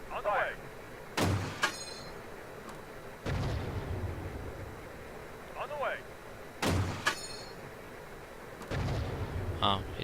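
Heavy CV9030 autocannon fire in the tank simulator Steel Beasts Pro PE, with two loud, sharp booming shots several seconds apart, each trailing into a long low rumble, while voices talk between them.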